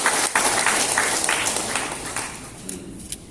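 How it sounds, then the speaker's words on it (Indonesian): Applause from an audience at a government event on reducing stunting in Konawe Selatan, a loud, dense wash of clapping that gradually thins and fades toward the end. "Boleh tepuk tangan yang meriah untuk kita semua."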